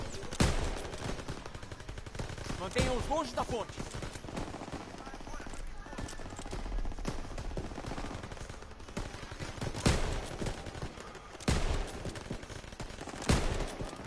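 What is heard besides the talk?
machine gun fire in video game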